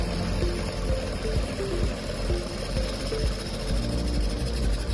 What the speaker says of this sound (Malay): Jadi sekarang ni kita lihat putaran motor ada agak laju.